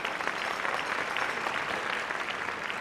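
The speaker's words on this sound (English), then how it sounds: "yes, you can applaud for them." Pageant audience applauding steadily at a state beauty pageant, a dense continuous wash of clapping throughout with no break.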